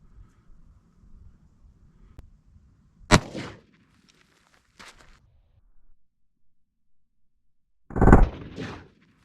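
A Hornady 357 SIG 147gr XTP round fired into ballistic gel from 15 feet: loud, sharp gunshot reports with fading tails, separated by stretches of near silence.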